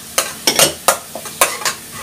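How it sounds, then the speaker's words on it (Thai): Butter and chopped onion sizzle in a pan for a truffle mushroom soup, while a utensil stirs and scrapes in quick, irregular strokes over the steady frying hiss. "ใส่เนยลงไปเลยค่ะง่ายค่ะกับหอมใหญ่นะคะ"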